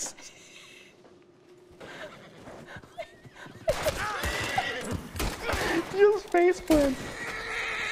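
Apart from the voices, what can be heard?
horse neighing in video game Red Dead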